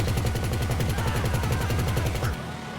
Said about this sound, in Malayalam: നമുക്ക് വെടിവെക്കാല്ലേ?